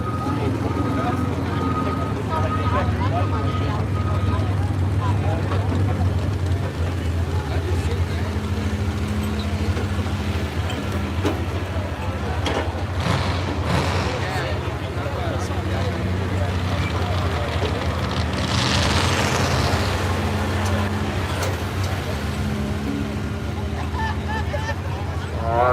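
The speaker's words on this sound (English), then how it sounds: "It's got a little small V6 motor in it." A pickup truck with a small V6 engine roars continuously at a truck pull event, loud throughout with a surge in revs near the end, under crowd noise and people talking.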